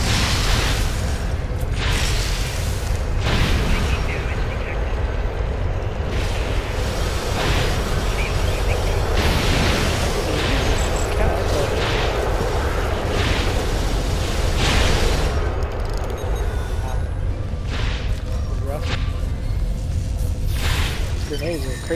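Grenade blasts in Star Trek Online on Xbox One, a loud, continuous roar of booming explosions and bursts rolling over one another, with repeated swelling impacts through a dense battle din.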